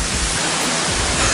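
River water rushing at Glawe waterfall in Kendal, Central Java: a loud, continuous broadband roar of flowing water, close and unbroken.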